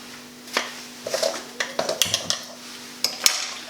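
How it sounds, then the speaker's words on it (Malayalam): A spoon stirring chili sauce with added sugar in a pan, giving a series of light clinks and scrapes of utensil against metal, irregular and close, with no talk. "അതിനുശേഷം ഇളക്കുക ഇതിങ്ങനെ"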